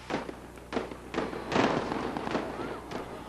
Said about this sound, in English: a different kind of explosion echoed through the skies over Amritsar